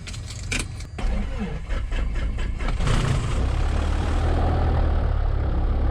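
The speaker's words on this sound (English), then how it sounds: "Remain clear of my propeller. I'm commencing engine start." A Piper Cherokee PA-28 light aircraft engine starts, with a few clicks and rattles, then the engine catches and settles into a loud, steady, rumbling idle.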